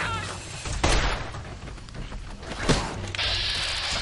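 Gunfire in the video game Fallout New Vegas from an underpowered gun, a few sharp shots and impacts over game ambience and music, with no talking.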